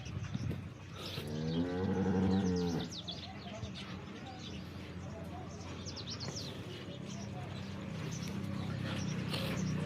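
Cows lowing on a farm, with one loud, drawn-out moo early on and further fainter lows amid background noise and some bird chirps.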